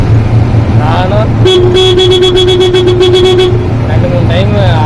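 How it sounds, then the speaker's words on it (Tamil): A car horn honks in a long sustained blast amid road traffic noise, with a potato-carrying vehicle ahead, with brief voice-like tones before and after. "2-3 டைம் ஹார்ன் அடிக்கிறேன்."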